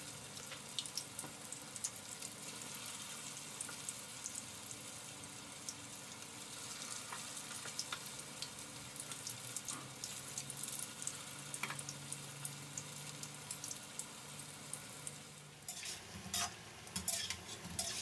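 Canned-fish fish cakes fry in hot oil with a steady close sizzle, joined by stirring scrapes and a few sharper clatters toward the end.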